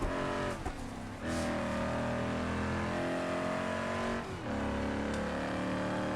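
A limousine's engine drones steadily as it drives in BeamNG, pitch shifting with gear changes and revs, loud and continuous with brief dips.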